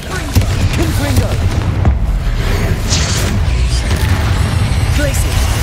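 Confringo fire spell explosions in Hogwarts Legacy, a string of loud booming blasts and crackling bursts amid combat, with a voice speaking over them.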